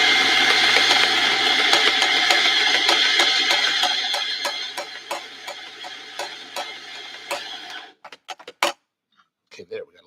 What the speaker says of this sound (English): Grind away. I'm gonna go for a little bit more coffee in.